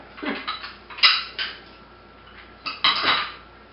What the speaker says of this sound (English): So the two glasses together, two glass dishes together, and the bottle